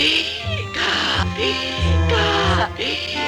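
A cat meows repeatedly, with four loud, close, wavering calls broken by short pauses, some stretching into a caterwauling whine. A low background hum runs underneath.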